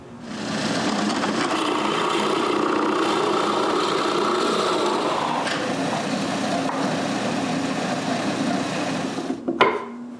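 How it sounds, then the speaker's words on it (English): A drill bores an adjustment hole into a wooden tracking block for an edge sander, a steady close whirring grind holding for about nine seconds before winding down with a brief clatter, no speech. "Then I measure the depth of the hole and drill it."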